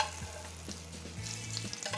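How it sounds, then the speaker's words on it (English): NY strip steak frying in hot oil while oil is spooned over it: a quiet, continuous sizzle and crackle with faint spoon movements and low background hum. "You're going to take some of this oil, and you put it right over the top of the steak."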